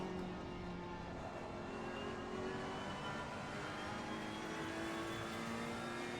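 A race car engine in the racing game Assetto Corsa Competizione drones continuously at high revs, with steady pitch shifts through the gears and a constant, dense roar with no talk.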